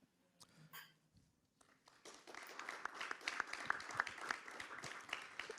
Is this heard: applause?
yes